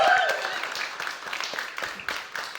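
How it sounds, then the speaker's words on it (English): A round of applause rises right after a closing thank-you, starting with a brief tonal sound and settling into scattered, uneven clapping that thins out over a few seconds. "I would like to give you a round of applause."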